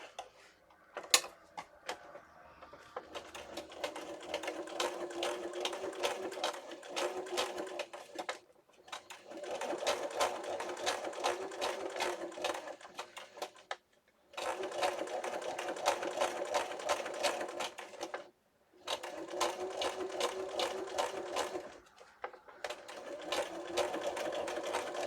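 A sewing machine stitches a junk journal booklet in long, steady runs of rapid mechanical chatter, pausing briefly a few times before starting again, close and moderately loud.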